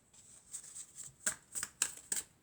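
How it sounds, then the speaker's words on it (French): Tarot cards shuffled and drawn during a reading, a light papery riffle followed by several crisp card slaps in an irregular rhythm, close and quiet with no voice. "Alors ensuite, on va prendre encore deux cartes"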